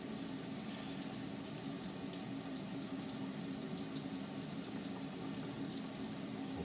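Hot water runs from a tap through the Alde water heater in a NuCamp TaB 400 camper, a faint, steady, even rush of flowing water with no talking.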